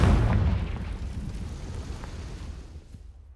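A fiery Confringo spell explosion in Hogwarts Legacy, one heavy boom at the start that rumbles and slowly fades over a few seconds.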